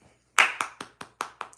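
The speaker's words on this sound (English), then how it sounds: "give yourself a hand clap" Six sharp hand claps ring out in a steady rhythm, one loud clap followed by five evenly spaced slightly softer ones, close and clear in a quiet room.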